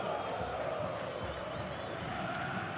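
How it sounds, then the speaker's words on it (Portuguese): A steady, roaring stadium crowd of Corinthians supporters at Pacaembu during a 2005 match against Santos, a continuous wash of massed voices under a commentator's talk. "Aí a torcida corintiana."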